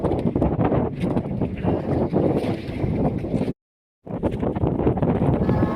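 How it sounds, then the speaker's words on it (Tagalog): Strong wind gusting at sea near a squid-fishing boat by a payao, a steady loud rushing roar with a brief dropout midway, close and without talk. "Medyo lalakas pang hangin mga idol at saka alon"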